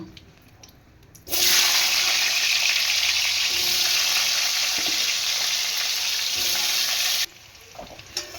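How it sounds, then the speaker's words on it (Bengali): Potatoes drop into hot oil and fry with a sudden loud, steady sizzle that holds for several seconds before cutting off abruptly. "এবার ওই তেলেতে আলু ভেজে নেব"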